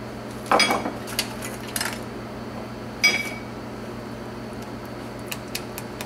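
Utensil clinks against a pot while yogurt and sodium lactate are stirred into hot-process soap, a few scattered scraping clinks over a steady fan hum.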